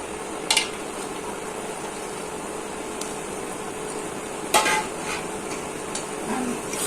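Cardamom, cinnamon and onion frying in oil for a broiler chicken kosha curry, a steady low sizzle close by, broken by a couple of sharp utensil clinks, with no speech.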